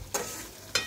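Whole spices with garam masala powder, cinnamon and bay leaf being stirred in oil, two brief scraping stirs over a low steady sizzle.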